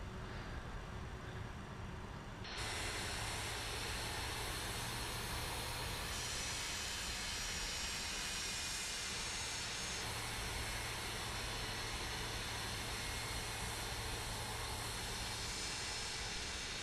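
Charter jet on the ground shutting down its number 2 engine while the APU runs, a steady loud broadband roar and hiss with a low hum, stepping up sharply after a quieter start and holding constant.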